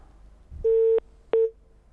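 Two loud, steady single-pitch telephone tones cut off a live caller's dropped call on a morning TV show line, the first lasting about a third of a second and the second shorter after a brief gap, over faint background hiss.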